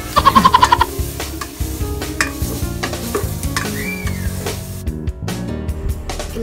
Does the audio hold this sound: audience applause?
no